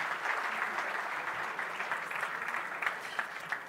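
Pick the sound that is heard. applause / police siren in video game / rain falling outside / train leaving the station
applause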